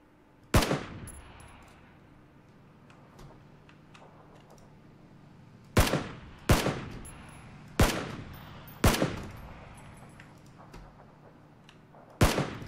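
Sharp, loud gunshots in PlayerUnknown's Battlegrounds ring out, single cracks and a few quick pairs spaced irregularly over quiet background, each with a short echoing tail.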